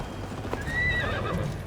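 A horse from Assassin's Creed Valhalla gallops with a steady clip-clop of hooves and a neigh in the middle, loud and close, with no talking.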